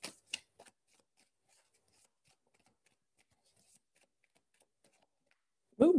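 Oracle cards shuffled for a full moon reading: a few quick riffling bursts at the start, then faint scattered ticks of card handling in near silence before a voice begins.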